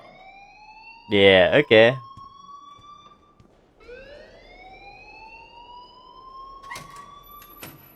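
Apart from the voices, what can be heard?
school alarm ringing, from video game Life is Strange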